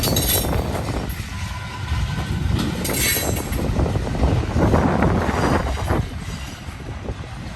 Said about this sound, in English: They commonly run these transfer trains every day here in the Bellevue